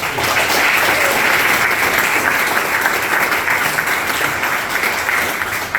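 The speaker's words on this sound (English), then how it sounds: "Can we give him a round of applause?" Audience at a Bucks County Republican party gathering applauds a guest in a long, even round of clapping, loud and continuous from start to finish.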